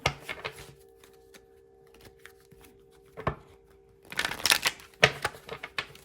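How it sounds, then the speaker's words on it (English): Tarot cards being shuffled by hand in a few quick riffling bursts, close and fairly soft, separated by short quiet gaps. "One more shuffle."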